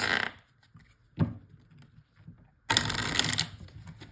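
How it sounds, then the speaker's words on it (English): Playing cards are riffle shuffled: a brief flutter at the start, a sharp snap, then a longer burst of rapid card riffling near the end. "you're just going to give it a normal riffle shuffle, like this"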